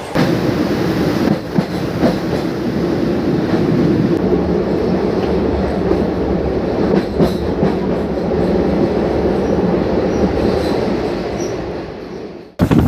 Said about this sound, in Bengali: আমার ট্রেন কিন্তু একদম সঠিক সময় নিজের গতিতে ছুটে চলেছে